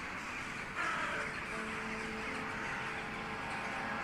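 Crows caw in Strange Antiquities, harsh calls rising over a dense, noisy background wash that continues throughout.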